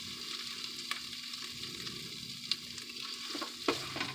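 About three quarters of a pound of semi-frozen bacon sizzles steadily in a pan, with a few sharp scrapes and clicks as it is stirred, close and continuous without any talk.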